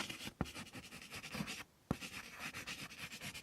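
Pen writing zeros on paper while working a binary conversion in a digital logic lesson: close, continuous scratchy strokes in short bursts with a brief pause partway, quiet and alone without talk.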